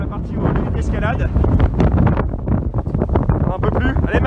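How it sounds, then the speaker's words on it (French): Strong wind roars continuously across a mountain summit in cold May conditions near a climbing section, buffeting the microphone loudly and steadily with gusty surges throughout. "on arrive sur l'extrême, ça caille, il y a du vent"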